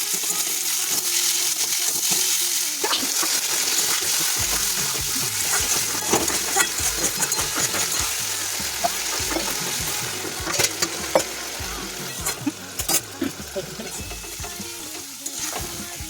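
Loud, continuous sizzling of potato, jackfruit seed and stem chorchori being stir-fried in a pan, with a spatula scraping and clattering through the steady hiss, all close up.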